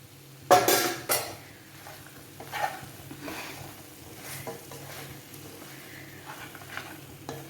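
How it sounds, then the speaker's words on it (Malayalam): Pork being stirred and dry-fried in a pan, with a spoon giving a couple of loud metallic scrapes and clanks at the start, then softer intermittent scraping over a low sizzle and steady background hum, no voices. "ഇതുകൊണ്ട് ഇളക്കിയാൽ ശബ്ദം ഉണ്ടാകുക അതാണ് വേറൊരു കുഴപ്പം"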